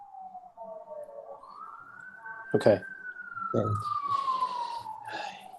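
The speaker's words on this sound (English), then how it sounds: "Yay, fire engines." Fire engine sirens pass at a distance, one long wail gliding down, up and down again, with brief honks and rumble between, while a person speaks a few words over it.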